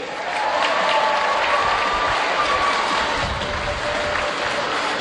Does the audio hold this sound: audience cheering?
yes